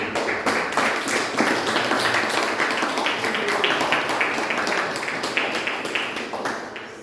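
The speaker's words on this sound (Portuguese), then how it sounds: "Vamos aplaudir." A church congregation breaks into dense, sustained applause, a continuous wash of many hands clapping that holds steady for several seconds before easing slightly at the end.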